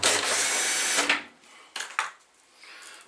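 A power drill backing screws out of a Whirlpool/Maytag washer, one sustained whirring run followed by short bursts and clicks as the screws come loose, close and fairly loud.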